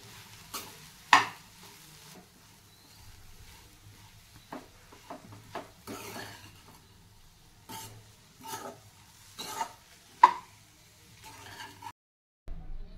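A spoon stirs soaked poha, salt and chopped coriander in a hot pan, giving scattered scraping and clinking knocks over a faint sizzle. The knocks fall at irregular intervals, close by and fairly quiet, and no one speaks.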